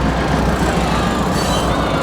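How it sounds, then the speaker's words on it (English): A train rumbles past near a minor league baseball field in York, a loud, steady low roar of rolling wheels with faint metallic squeal, close and continuous, with no voices. "And there's a train."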